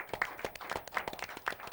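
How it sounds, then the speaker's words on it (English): A small audience claps for a woman named Ellen on a late-night comedy show, a faint, steady patter of hands running the whole time with no clear voice over it. "a round of applause for Ellen"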